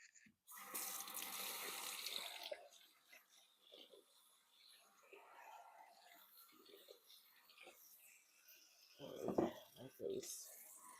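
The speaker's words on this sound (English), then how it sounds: "Let me wash my hands." Water runs from a kitchen tap as hands are washed during banana bread baking, a faint hissing stream at the start, followed by quiet movement and soft speech.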